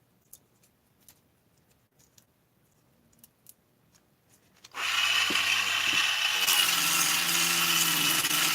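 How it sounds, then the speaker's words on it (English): A power tool polishes the rough intake port of a 660 chainsaw: after several quiet seconds of faint ticks, a loud, close high-pitched grinding whine starts abruptly and keeps going, its pitch rising slightly. "So right now I'm just polishing some rough stuff"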